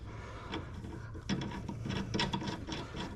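A brake caliper bolt for a Brembo big brake kit on a Z31 300ZX threading smoothly through its hole, giving a close, dry metallic rasp and rubbing with small ratcheting ticks.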